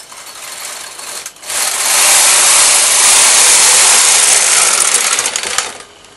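A Brother knitting machine carriage is pushed across a row on the main tension with waste yarn, a loud, continuous whirring rasp lasting about four seconds that starts after a short rattle and fades at the end of the pass.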